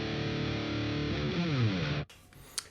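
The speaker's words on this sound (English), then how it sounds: "That's the thrash metal sound." Thrash metal electric guitar through a distortion plugin, a loud, heavily saturated riff of chugging chords and a bending note, then cut off abruptly into near silence with a brief final click.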